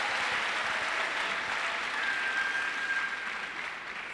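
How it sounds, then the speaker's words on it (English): An audience at an entrepreneurship bootcamp applauds a panel with a continuous, even wash of clapping. It holds a steady level throughout and tapers slightly at the end, and a faint tone sounds briefly in the middle. "If you think so, applaud the panel."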